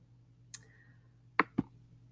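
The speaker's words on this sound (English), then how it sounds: "let's just click on that" Mouse button clicks while opening a PDF from Google Classroom: one sharp click, then a quick pair of clicks about a fifth of a second apart, close and crisp over a quiet room hum.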